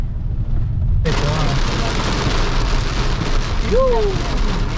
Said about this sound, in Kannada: ಈಗ ಜೋರು ಮಳೆ ಬರ್ತಾ ಉಂಟು